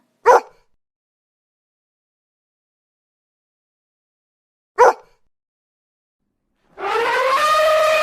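Two short, sharp dog barks separated by a long silence, followed by a sustained tonal, wailing sound at the end.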